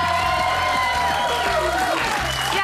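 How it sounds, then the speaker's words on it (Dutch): Studio audience at a Dutch TV game show applauds and cheers loudly and continuously, a dense wash of clapping with whoops, while music plays underneath. "En natuurlijk opnieuw een groot applaus voor deze kanjers."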